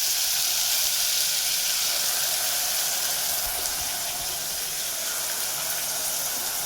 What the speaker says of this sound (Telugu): ఈ ప్యూరీ బాగా సిమ్లో వేగాలి